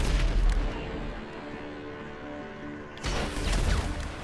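Gunfire from a GTA 5 Online adversary-mode match: loud booming shots and impacts fill the opening second, give way to a quieter stretch, then return in a dense burst toward the end.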